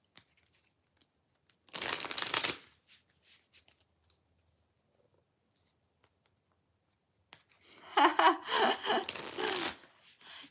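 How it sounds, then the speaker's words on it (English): A deck of cards being shuffled in two brisk riffling bursts, a short one early and a longer one later, separated by several seconds of near silence. "Let me shuffle."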